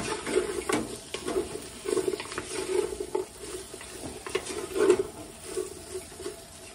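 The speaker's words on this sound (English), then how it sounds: "I'm just gonna go ahead and add our celery and onion. And we'll let that caramelize" Celery and onion frying in a pot for beef stew, a soft steady sizzle with repeated stirring scrapes at a fairly even rhythm, moderately close with no talking.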